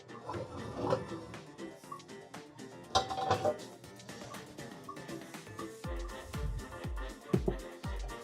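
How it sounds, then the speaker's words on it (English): Pans and utensils clink and clatter faintly in a kitchen while burgers sear in hot oil, with scattered metallic knocks and scrapes and a few louder clanks toward the end. "I think it's time to sear some burgers."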